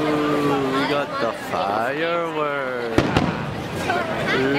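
Fireworks bursting at Disneyland, with a sharp crackle of pops near the middle, largely buried under continuous close conversation.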